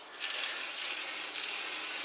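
An aerosol can sprays a coat of Kimco onto motorcycle parts for a Huoniao HN125, a loud, close, steady hiss that starts abruptly and keeps going without a break.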